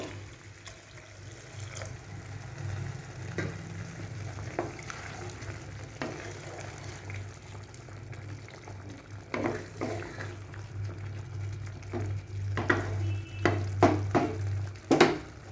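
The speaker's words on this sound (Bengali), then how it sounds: "আমি এবারে এর মধ্যে চিকেন স্টকটা দিয়ে দেবো।" Chicken stock poured into a hot pan for a dhaba-style chicken vorta, a low bubbling sizzle with liquid splashing and stirring clatter that grows busier toward the end, close and without speech.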